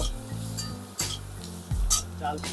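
Fried onion pieces tipped out of a hot pan into a dish, a soft sliding scrape with a few light metallic clinks and a brief clatter near the end, close and fairly quiet.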